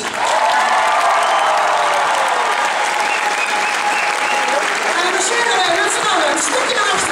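A dance show finale audience gives loud, sustained applause, dense clapping with crowd noise filling the whole stretch at steady volume.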